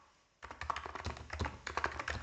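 Rapid clicking of keys on a computer keyboard starts after a brief quiet moment, close and fairly loud, in an uneven run of quick taps with no talking.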